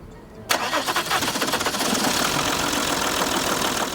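A car engine cranks and catches abruptly, then settles into a steady, loud idle with a slightly rough, rhythmic knock, close by.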